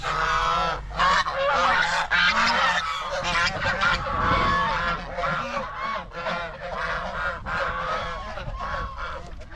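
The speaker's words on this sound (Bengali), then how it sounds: "রাজহাঁস।" Geese honking on a village roadside, several birds calling in loud, overlapping nasal honks that run continuously and close by, with a person's voice briefly mixed in.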